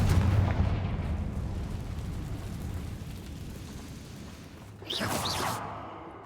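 A Confringo blast spell in Hogwarts Legacy: a rumbling combat roar carries on steadily, and then a sharp, bright burst erupts near the end and quickly fades.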